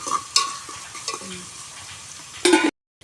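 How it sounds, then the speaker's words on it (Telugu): Onions and ginger paste sizzle softly in a pan, with a few scraping stirs and a brief louder burst near the end before the sound cuts to silence, close and quiet. "కొద్దిగా అల్లం పేస్ట్ వేసుకుందాము ఆనియన్స్ అయితే బాగా మగ్గాలండి"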